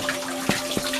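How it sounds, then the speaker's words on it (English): Water runs steadily in a snowy backyard greenhouse, a soft continuous trickle broken by two brief splashy bursts. "Wow, I still hear the water going."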